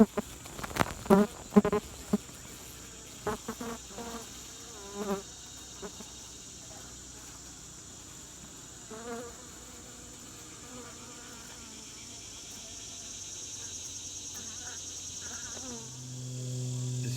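Honeybees drone in a steady, continuous hum during an August hive inspection, the buzzing swelling louder toward the end, with a few soft knocks and handling sounds of frames early on.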